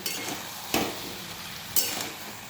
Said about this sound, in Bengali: এবার ভালো করে তরকারির সঙ্গে মাছের মাথাগুলোকে মিশিয়ে নেব